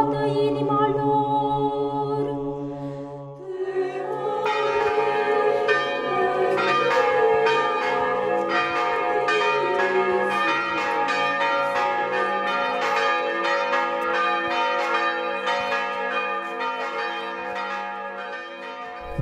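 Church bells ring out steadily during an Easter procession around a church in Bucovina, a loud, rhythmic peal of overlapping strikes continuing throughout, preceded by a sustained tone before the clanging begins.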